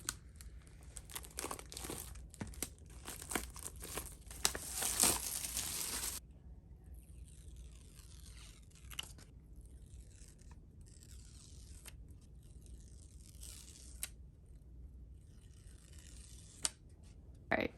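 A cardboard box from Amazon being folded and assembled up close, with crinkling, scraping and creasing noises for several seconds before it drops to quieter, sparse handling sounds.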